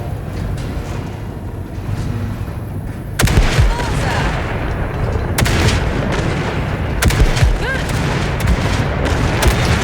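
Ship weapons in Cyberpunk 2077 fire at wrecks in dense, loud bursts of booming blasts, with sharp heavy impacts punching through a constant roaring wash of noise.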